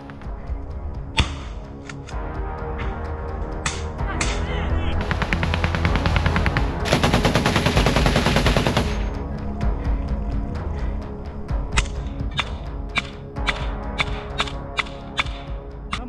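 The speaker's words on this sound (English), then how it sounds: "shooting from a machine gun at close range" Machine gun fire at close range in a forest assault, with sharp individual shots and a dense sustained burst in the middle, loud and close, other cracks scattered around it.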